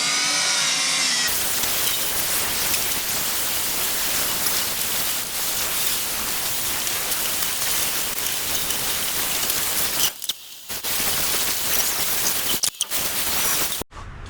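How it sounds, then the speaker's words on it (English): A steady, loud, rushing whir of a Dremel rotary tool spinning a small flat brush while cleaning individual throttle bodies on an S54 engine, running continuously with brief dips near the end. "We're gonna use a Dremel, and we just have like a little flat brush on it"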